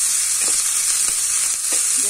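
Green chillies fry in a hot pan of oil while the potato filling for aloo paratha is being made, giving a steady, close sizzle with faint stirring scrapes now and then.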